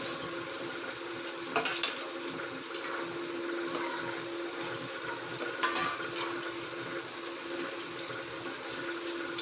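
Flat white poha (flattened rice) frying in a pan, heard as a faint, steady sizzle with occasional scraping and clinks of a utensil against the pan, without talk.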